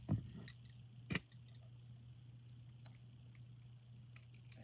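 Hammered brass costume bracelet gives two short, close metallic clinks and jangles near the start and after a second, then only faint rustles over a steady low hum.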